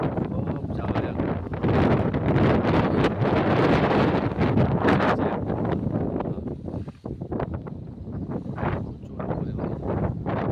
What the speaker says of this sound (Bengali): বিশাল হাওয়া, বিশাল।